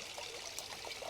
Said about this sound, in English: Joe, put a little more water in there out of that bucket